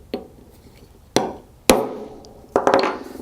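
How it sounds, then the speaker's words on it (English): A hammer and punch tap a steel ball bearing into a small air port on an air control block during a valve replacement: three or four sharp, close metallic knocks spaced irregularly, the last ones in a quick cluster. "take a ball bearing, place it in to the small air port, and tap it in gently with a hammer"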